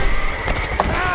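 A horse in Mount & Blade Warband gives a short neigh over busy, clattering battle noise, brief and fairly loud within the dense mix.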